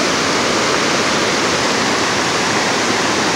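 Water of the Nantahala River rushes over rocks in a loud, steady, close wash of broadband noise, continuous throughout with no voices.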